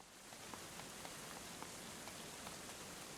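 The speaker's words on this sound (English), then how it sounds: "so that they aren't being hit by the hail." Hail pelts down steadily in the medieval colony-building game Going Medieval, a dense, even patter with faint scattered ticks and no voices.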